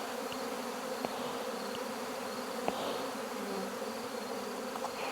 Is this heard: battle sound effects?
no